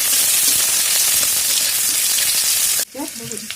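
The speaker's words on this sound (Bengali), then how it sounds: "হালকা একটু পেঁয়াজ দিয়ে এটাকে আমি পেঁয়াজগুলোকে ভেজে নেব।" Chopped onions frying in a pan with a loud, steady sizzle for nearly three seconds, then cutting off abruptly as a quieter clatter follows.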